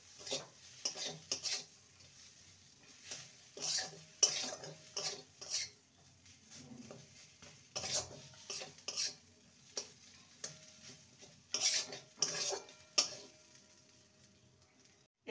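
A spoon stirs green peas and mashed potato curry in a pan, producing irregular scraping and clinking strokes against the metal with a faint sizzle between them, close and fairly quiet.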